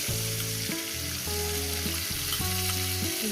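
Tomato and spice masala fry in a pan with a steady close sizzle, accompanied by a stepping melodic tone.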